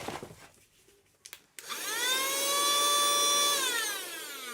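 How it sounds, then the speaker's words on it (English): A small keyboard vacuum cleaner switches on after some quiet handling clicks, then runs with a loud, steady high-pitched motor whine that slowly drops in pitch toward the end. "Little keyboard vacuum."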